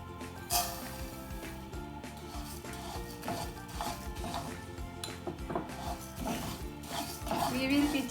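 Bulgur wheat sauteing in a tablespoon of olive oil over a medium-high flame, heard as frequent clinks and scrapes of a utensil stirring against the pan with a faint sizzle beneath, while background music plays throughout.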